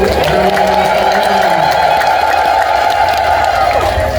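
Church congregation celebrating a healing testimony at a Saint Uriel gathering, a loud sustained crowd roar with high trilling ululation and cheering layered over it, steady and close throughout.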